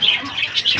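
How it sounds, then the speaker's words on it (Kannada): Small caged lovebirds chirping in a brief, close burst of high, bright tweets and squawks, fairly loud and with no speech. "ಲವ್ ಬರ್ಡ್ಸ್ ಇದ್ದಾವೆ. ಒಂದು ಲವ್ ಬರ್ಡ್ ಇದೆ."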